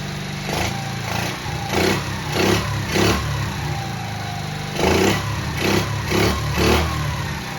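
A 50cc Kazuma Firehawk Chinese quad's small engine runs close and loud, blipped through repeated revs that rise and fall in bursts, with idling between them and no voices.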